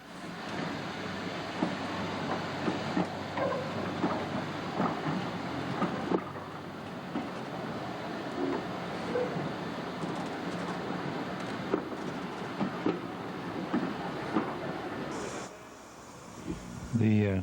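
A train on the Lakeside Railway, a British steam line, rumbles past with steady rolling noise and faint rhythmic rail clatter for most of the stretch, easing off near the end, with voices briefly audible.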